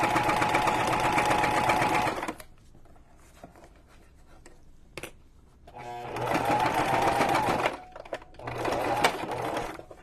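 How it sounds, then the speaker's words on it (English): An old sewing machine in poor condition stitching fabric, loud rattling whir in two bursts with a quiet pause between, plus a brief tap in the gap. "Ignore the noisiness of my machine. It's not in great shape."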